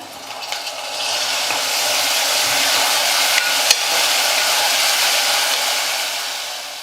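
Chopped onion and tomato sauté in a pan with a loud, steady, hissing sizzle that runs unbroken throughout, broken only by a couple of faint spoon taps.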